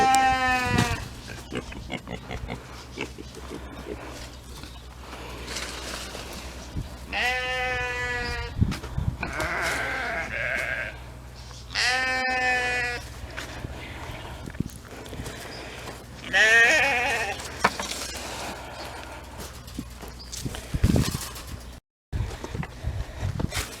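Sheep bleating on a homestead in December, several wavering calls from a few animals at close to moderate distance, spaced irregularly over steady outdoor background noise.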